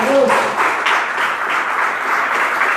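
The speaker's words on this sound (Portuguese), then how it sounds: "Aplauda o Senhor nessa noite." Congregation applause at an evening Portuguese-language church service, a steady crowd of clapping hands at moderate loudness, with a short voice or tone heard at the start.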